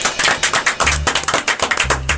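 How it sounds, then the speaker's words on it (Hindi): An audience at an antakshari singing contest claps loudly and steadily, with quick, dense, slightly rhythmic hand claps throughout. "जोरदार तालियां"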